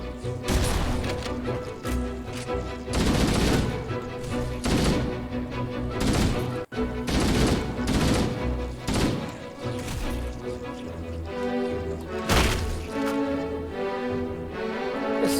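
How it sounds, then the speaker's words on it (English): Repeated shotgun blasts in the Halo: Combat Evolved game ring out over a busy, loud battle mix with crashes and impacts, the shots coming in irregular bursts throughout. "I also need to hit all these guys with a shotgun."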